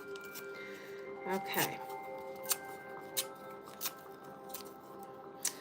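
Paper is torn up by hand: a few sharp, crisp rips and crinkles sound close by over a soft room hum, with a brief spoken word.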